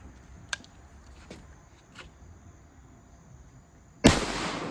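An Ithaca Auto and Burglar .410 shotgun loaded with 3-inch 7.5 shot fires one loud, close blast near the end. A few faint clicks come before it over quiet outdoor background.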